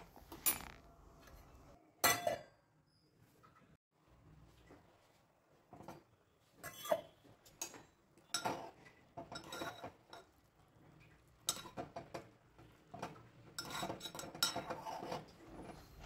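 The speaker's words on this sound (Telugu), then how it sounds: "పాలు పోసుకున్న తర్వాత ఒకసారి కూరను మొత్తం కలుపుకొని మరికొద్దిగా సేపు ఆ పాలల్లో కూరను ఉడకనిచ్చుకోవాలి" Spoon clinking and scraping against a pan while brinjal curry simmering in milk is stirred, giving scattered metallic clatters and knocks at close range with quiet gaps between them.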